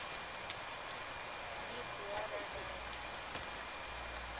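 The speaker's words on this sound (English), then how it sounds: "It's raining." Steady rain falls in The Forest survival game, a continuous broadband hiss with a few soft drop taps, and a voice is briefly heard under it.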